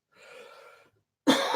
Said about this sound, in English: Even if I'm coughing my guts out.